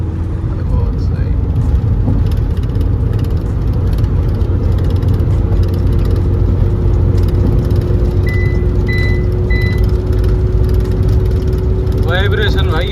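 A Mahindra XUV500 with a steering vibration problem after wheel balancing cruises at high speed, giving a loud, steady engine and road roar that runs throughout.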